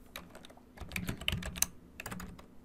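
Keys clatter softly on a computer keyboard as code is entered into a Google Colab notebook, in a short, quiet run of close taps at an uneven rhythm.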